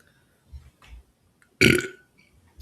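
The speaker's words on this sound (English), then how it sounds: "I'm not going to worry about muting my burps" A single loud, close burp lasting about half a second, preceded by a couple of faint low rumbles in an otherwise quiet basement room.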